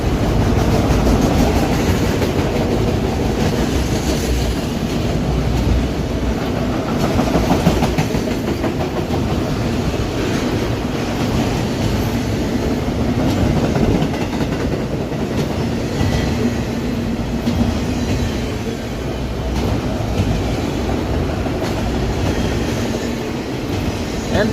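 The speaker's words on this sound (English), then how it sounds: "And this train should be picking up Autoracks from Jessup." A long CSX freight train of empty autorack cars rolls past at close range, with a continuous heavy rumble, rhythmic clickety-clack from the wheels and occasional faint squeals, and no voices.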